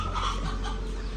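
A hen clucks briefly at close range, a short burst of throaty farmyard calls with no talk over it.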